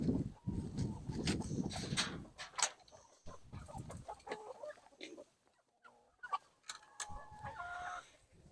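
Chickens cluck around farm coops in November, a scattered run of close, fairly quiet clucks and squawks with short pauses and a possible distant crow, with no talk.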